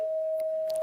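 A single steady electronic beep representing the color of grass, clear and unwavering, sounds alone from start to finish.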